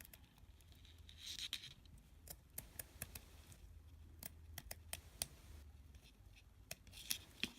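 Scissors snip earring material in repeated short, crisp cuts with irregular pauses, close and fairly quiet, with light rustling of the material between cuts.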